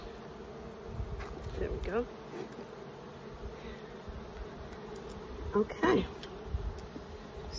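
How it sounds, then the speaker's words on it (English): Honey bees buzz steadily around two calm hives during a beekeeping inspection, a close, continuous hum with a few louder passes near the microphone while a person speaks briefly. "The bees are still calm in both hives"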